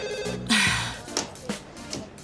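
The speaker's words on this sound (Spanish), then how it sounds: "El teléfono no para de sonar." A telephone rings in a home interior, a bright electronic bell burst followed by fainter repeated rings, with no talking over it.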